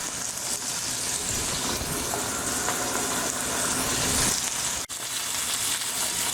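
Pork chops searing thyme side down in a hot pan give a steady, close sizzle that holds evenly throughout, with a brief dip near the end.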